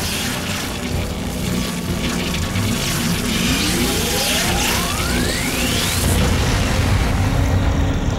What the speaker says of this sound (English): That's like a nuclear explosion